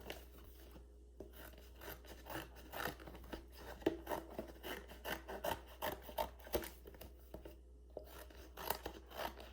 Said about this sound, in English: take your scissors and cut around the outside edge